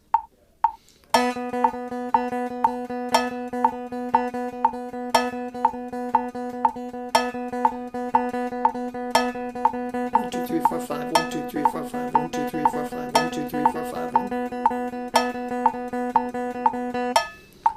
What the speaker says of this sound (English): Now I'll play 5 notes for every 2 clicks.